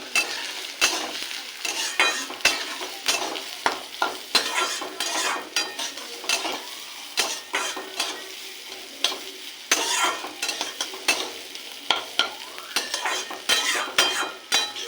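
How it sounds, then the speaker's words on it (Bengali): Moong dal being stirred as it fries in a pan with grated ginger, giving a steady sizzle broken by repeated scraping and clinks of the spoon against the pan, close and fairly loud with no talking. "এটাকে একটু নেড়ে নেব।"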